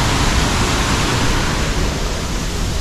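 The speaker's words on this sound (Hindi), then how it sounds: "ये है यहाँ का वाटरफॉल।" Devi's Fall waterfall in Pokhara, a loud, dense, continuous rush of falling water filling the space close by, with no other sounds cutting through.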